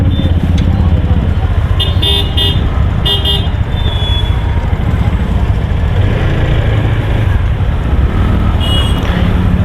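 A Pulsar NS 125 motorcycle rides along a busy, jammed mall road in Mussoorie, its engine drone loud and continuous under dense traffic, with repeated short horn toots from nearby vehicles.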